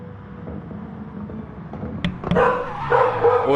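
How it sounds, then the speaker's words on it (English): Dog barks and yips rise over a busy background, with a few sharp barks around the middle giving way to louder, denser barking toward the end. "we're trying to keep down the barking"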